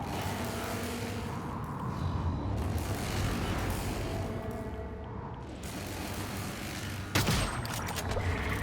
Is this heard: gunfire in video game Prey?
yes